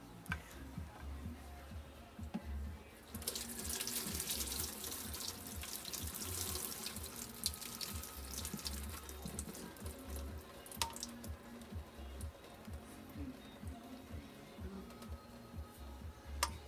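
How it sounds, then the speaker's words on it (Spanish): Water from boiled chiles is drained into a sink, a steady soft gushing and splashing that swells for several seconds and then tapers into trickles and drips. "Drene la agua."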